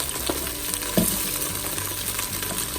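Onions frying in olive oil in a pot, a steady close sizzle with occasional stirring knocks and scrapes, heard alone without talk.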